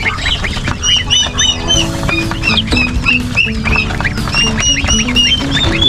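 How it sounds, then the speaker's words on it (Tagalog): A loud, dense chorus of peeping from turkey chicks and ducklings, with two young geese among them, kept in a pen. High chirps overlap nonstop and close up, with no talking. "sisiyo ng pabo, sisiyo ng pato, at saka mayroong dalawang"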